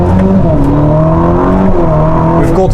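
A Ferrari SF90 Stradale pulls away, its engine note loud and close, a steady drone with rising and falling harmonics as it gathers speed, with no talk over it.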